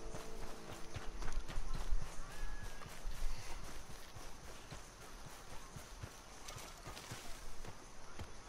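Horse hooves clip-clop over a steady wash of outdoor game ambience in Red Dead Redemption 2, the footfalls fairly close and irregular, with a faint whistle-like tone briefly passing through.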